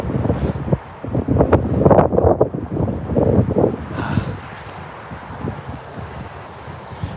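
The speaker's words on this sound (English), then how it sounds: "But it is very windy out today, so there's nothing much I can do about that." Gusty wind buffets a microphone outdoors on a very windy day, with strong rumbling bursts early that ease into a lighter, steady rush toward the end.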